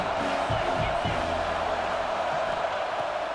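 A stadium crowd in College Football 26 roars in a dense, steady wash of cheering, with a commentator's voice faintly underneath.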